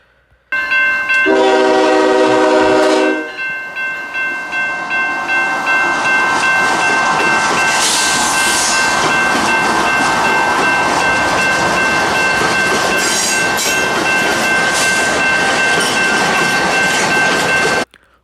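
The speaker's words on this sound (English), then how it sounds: "Nice horn on this locomotive" A CN freight train led by four locomotives sounds a loud, multi-tone horn for a few seconds, then passes close by with a steady roar and rhythmic wheel clatter that continue to the end.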